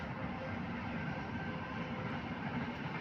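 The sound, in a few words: passing train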